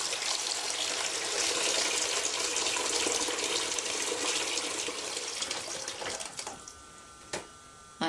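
Running water pours steadily into a sink as hands are washed, a continuous broadband gush that cuts off near the end, leaving faint drips and small knocks.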